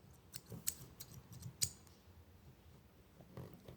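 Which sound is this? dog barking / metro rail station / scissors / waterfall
scissors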